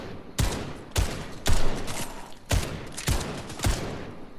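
Separate loud gunshots ring out in Fortnite, six sharp cracks spaced roughly half a second apart, each with a short echoing decay, close and distinct against quiet game background.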